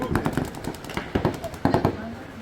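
Paintball guns fire in quick popping bursts during an outdoor paintball game, several clustered shots close by and sharp, with voices in the background.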